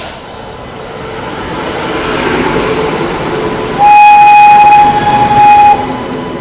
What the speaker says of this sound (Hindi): अभी आपने देखा ना बगल से निकली वैशाली एक्सप्रेस